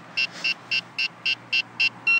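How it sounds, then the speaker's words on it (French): A V911 Pro RC helicopter and its remote give eight evenly spaced high electronic beeps at startup, clear and moderately loud over a quiet background. "Une fois que les bips sont terminés, l'hélicoptère est prêt à voler"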